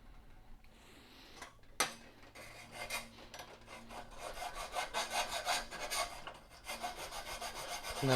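A file rasps back and forth across metal in a home garage to remove the burr left by a hacksaw, starting with a few scattered scrapes and settling into a quick, even run of strokes, close and fairly quiet.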